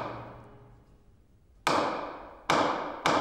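Small gavel banged by a cartoon judge in a courtroom: three sharp wooden knocks at irregular intervals, loud and close, each decaying quickly.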